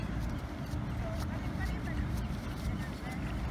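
A low, continuous motor hum of a boat moving past in San Diego, with wind and water noise, somewhat distant and steady.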